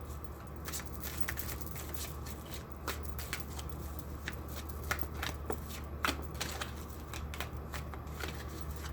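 Cards are shuffled repeatedly, producing crisp riffling clicks and soft slaps in an irregular rhythm, close to the microphone with a low steady hum underneath.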